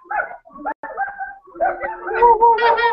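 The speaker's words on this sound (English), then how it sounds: "Too many tiny dogs." Small dogs yap and whimper in short, high, excited bursts, close by and fairly clear, with little else in the background.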